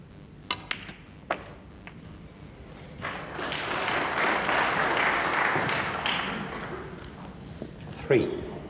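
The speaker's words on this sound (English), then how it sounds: "a round of applause there from the snooker enthusiasts" At the 1998 Masters snooker final, Stephen Hendry against Mark Williams, a few crisp ball knocks give way to a swelling wave of audience applause that rises, holds for several seconds, then fades, with another sharp knock near the end.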